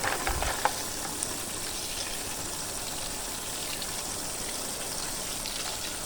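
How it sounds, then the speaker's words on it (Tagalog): Raw peanuts are rinsed under running water in a kitchen, giving a continuous soft splashing and trickling hiss with a few louder knocks at the start. "Huhugasan muna natin yan ng tubig."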